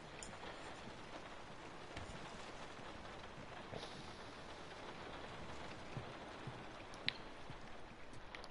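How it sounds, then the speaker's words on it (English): Rain in The Last of Us falls as a soft, steady patter of drops on surfaces, faint and continuous, with a few sharper isolated drip clicks standing out. "This is the prettiest rain I've ever seen."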